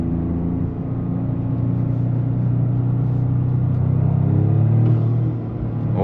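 A turbocharged 2025 Toyota GR Corolla Premium accelerating from inside the cabin, with a loud, steady engine and turbo rumble that builds slightly toward the end and then eases off.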